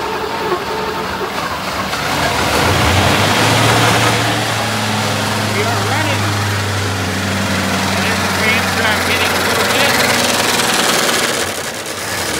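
A 1965 Ford Mustang coupe's donor engine fires for the first time and keeps running, a steady low rumble lasting the whole stretch with voices talking over it.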